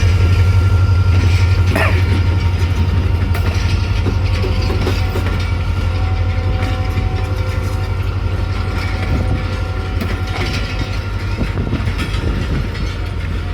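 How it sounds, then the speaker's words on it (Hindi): The Hazara Express train slowly leaves a railway yard in Pakistan with a loud, continuous low rumble and steady rolling clatter. The sound stays close throughout. "जो कि हज़ारा एक्सप्रेस जा रही है।"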